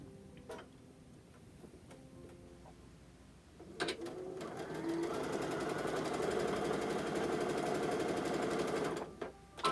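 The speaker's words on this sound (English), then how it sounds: "Next thing I'm going to do is I'm going to run a seam on both sides." A sewing machine stitching a quarter-inch seam, starting after a few clicks and then running fast and steady for several seconds with a rapid rhythmic whir, close and clear, before stopping.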